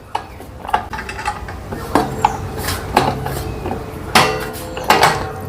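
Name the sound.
tightening nut and bolt with 10 mm spanner on Suzuki Jimny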